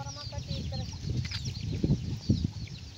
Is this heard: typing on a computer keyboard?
no